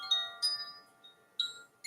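Soft, quiet chimes ring out in separate struck tones, each with a short shimmering decay, spaced irregularly with near silence between strikes.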